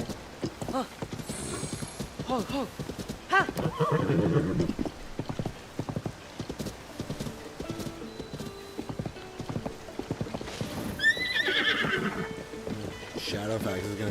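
A horse in Zelda: Tears of the Kingdom clip-clops with hoof beats and gives a clear neigh, with game sound effects and someone talking over it.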